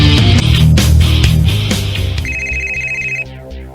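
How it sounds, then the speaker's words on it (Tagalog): A cellphone ringing loudly and close by with a melodic ringtone, its repeating tones filling the clip before settling into a sustained high beep that cuts off near the end. "Naring man ang akong cellphone."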